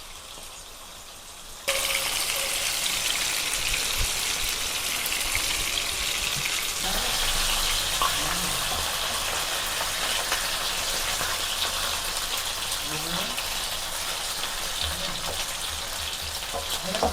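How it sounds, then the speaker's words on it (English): Fish frying on a tawa, a steady, loud sizzle of hot oil that starts abruptly after a short quieter lead-in and continues evenly throughout with a few faint clinks. "So we can fry each side for 2 minutes."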